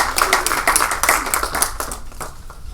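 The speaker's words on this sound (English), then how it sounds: "Let's give our judges a round of applause." A room at a University of Auckland competition round claps for the judges, a close burst of many quick hand claps that thins out and fades to a few stragglers near the end.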